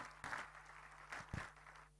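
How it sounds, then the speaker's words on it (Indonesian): Applause from an audience at a founders' diamond recognition event, a brief burst of clapping at moderate level that swells and fades over a couple of seconds with a low steady hum underneath. "Tepuk tangan buat MW Indonesia."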